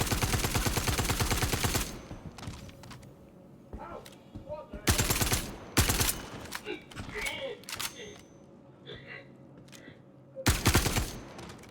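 Automatic gunfire in Star Citizen comes in loud, close bursts at the start, middle and end, with quieter clatter and faint voices in between.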